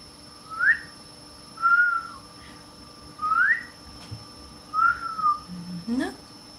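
A person whistles short rising and falling notes in four separate bursts, each about a second long with pauses between, clear and close against a faint steady hum, followed by a brief squeaky vocal sound at the end.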